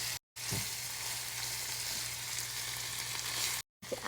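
Beef pastelle filling with thyme and pimentos sizzles steadily in a hot pan, a dense close frying hiss broken by two brief silent cuts and soft scrapes of a spoon stirring.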